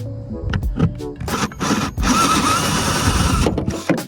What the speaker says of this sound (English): Now I'll drill the holes all the way through.